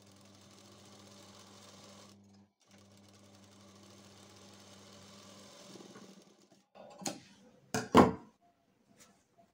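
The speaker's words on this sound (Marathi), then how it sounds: "या साईडला पण डबल टिप टाकून घेऊया." A sewing machine stitching a princess-cut blouse runs in two steady bursts with a brief pause between, then stops, followed by a few knocks and clatters of handling.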